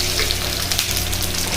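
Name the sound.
curry leaves sizzling in hot oil for sambar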